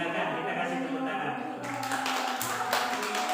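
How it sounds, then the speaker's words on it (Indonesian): Classroom applause for group 1 breaks out in scattered clapping and tapping, moderately close, with a voice talking in the room under the claps. "Silakan kita kasih tepuk tangan"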